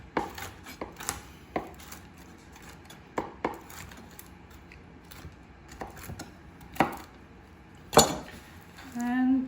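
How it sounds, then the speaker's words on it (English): A knife chops broken nut halves on a board in irregular bursts of sharp taps with quiet gaps between, one loud knock near the end and a brief clink of utensils. "I'm gonna use some of these broken pieces, broken halves from the bag of nuts, chop them a little bit."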